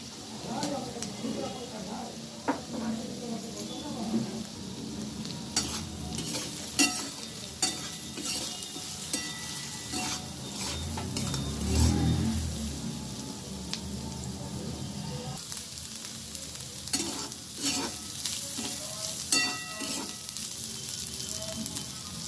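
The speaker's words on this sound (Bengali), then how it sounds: "লাউয়ের খোসাগুলো খুব সুন্দরভাবে আমি ভেজে নিয়েছি" Bottle gourd peels fry in a pan with turmeric and salt, giving a steady close sizzle broken up by the scrape and clatter of a spatula stirring throughout.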